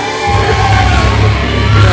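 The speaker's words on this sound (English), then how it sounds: "the people are cheering for them" A wrestling crowd cheering for the wrestlers, a loud, unbroken wall of yelling and whooping with a heavy low rumble, no distinct single voices.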